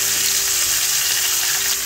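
Fish fries in a pan on medium flame right after being turned, giving a loud, continuous hissing sizzle close up, with no talk.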